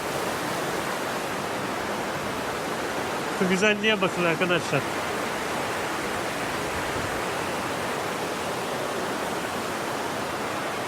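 A stream pours out of an excavated area beside a mountain road near Lake Garda, a loud continuous rush of water while someone speaks briefly over it.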